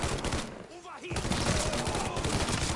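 Mafia 3 combat with near-constant loud gunfire, overlapping shots and bursts throughout, briefly thinning for a moment before resuming; a character's voice shouts over it.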